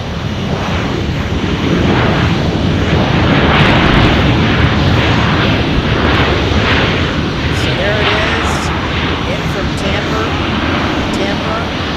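A diverted Airbus A321 airliner in from Tampa passes at Tucson airport, a loud, steady broadband engine roar with wind-like rushing that fills the whole stretch, with a faint voice underneath.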